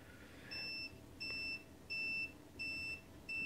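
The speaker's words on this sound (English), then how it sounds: "Oh, my bad. That's my multimeter here." A multimeter emits a series of five short, evenly spaced electronic beeps, each about a third of a second long, with steady tones over quiet room noise.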